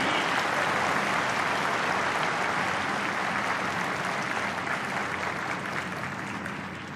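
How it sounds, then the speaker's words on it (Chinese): Dense, sustained applause from a large crowd honoring a military honor guard at a 2020 National Day ceremony, loud and unbroken throughout, tapering off slightly at the end. "请给予他们热烈的掌声鼓励。"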